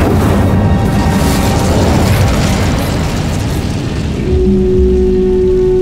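Casting the Incendio fire spell in Hogwarts Legacy produces a loud, sustained roaring blaze with crackling, rain-like hiss. It eases slightly before a tonal game sound rings out near the end.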